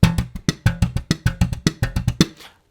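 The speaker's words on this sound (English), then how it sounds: "So thumb, hammer, thumb, pluck." On slap bass, a thumb, hammer-on, thumb, pluck figure repeats quickly as muted ghost notes, giving a tight, rapid run of close, punchy percussive hits that stops near the end.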